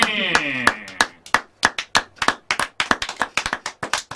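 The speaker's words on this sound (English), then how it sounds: "Give them a hand." An audience at a live comedy show claps for the guests in uneven, fairly sparse claps from a small group, with a sustained voice or tone sounding under the first second.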